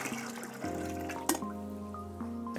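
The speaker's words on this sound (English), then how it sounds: "discard this first batch of water" Water trickling and dripping through a LifeStraw Max water purifier as the first batch is flushed, a steady faint flow with small drips and one brief clatter, no voices.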